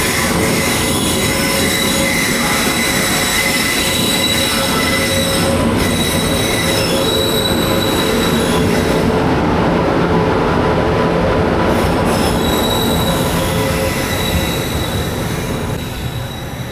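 A train rolls loudly and continuously past a platform at Shoranur railway station, with sustained high-pitched wheel squeal and rumbling rail noise throughout.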